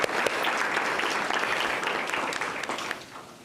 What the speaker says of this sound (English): A round of applause for Elijah.